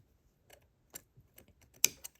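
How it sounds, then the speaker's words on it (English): Scissors snipping sewing threads on a baby burp cloth, a few quiet, sharp clicks spread over two seconds, close and isolated in a quiet room. "So I'm going to cut my threads."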